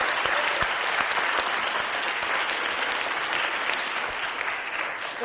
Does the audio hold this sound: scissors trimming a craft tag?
no